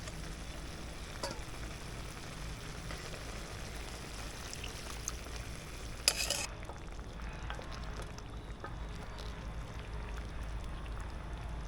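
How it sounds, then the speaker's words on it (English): A blue crab sauce of butter and stock simmers down in a pan, giving a faint, steady bubbling hiss with a short clatter midway, quiet and close. "we're gonna let that cook down a little bit here"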